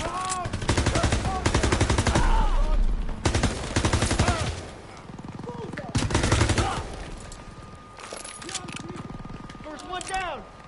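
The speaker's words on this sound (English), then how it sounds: "MGs are still sweeping the beach!" Machine guns sweep a beach in a WW2 video game: loud, rapid bursts of automatic fire overlap with heavy gunshots, stopping and starting in long volleys while voices shout underneath.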